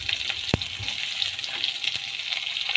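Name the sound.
onion and potatoes frying in a pan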